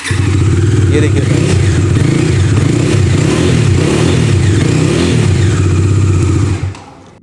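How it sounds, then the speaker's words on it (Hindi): Bajaj Dominar 250 BS6 motorcycle idling and being revved up close, a deep bassy exhaust thrum running steadily for about seven seconds before cutting off, with someone briefly speaking over it. "चलिए अब इसकी भी सुन लेते हैं एग्जॉस्ट नोट।"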